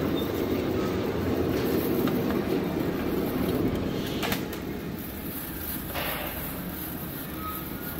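Stretch wrap machine turning a load and wrapping it in film, its film carriage lowered near the bottom, giving a steady loud mechanical rumble and whir throughout with faint brief squeaks over it.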